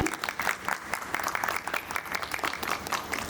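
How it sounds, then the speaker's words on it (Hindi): Audience at a 15th August Independence Day celebration clapping steadily, a dense patter of applause heard at moderate distance with no talk over it. "तालियों के साथ स्वागत करें।"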